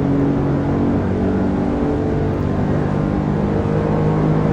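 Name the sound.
racing car engine in Assetto Corsa video game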